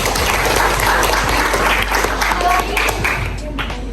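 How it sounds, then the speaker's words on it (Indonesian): Applause from a class of students, called for by a teacher during a lesson, keeps up as dense, steady clapping through the whole stretch, with voices mixed in. "tepuk tangan dulu buat"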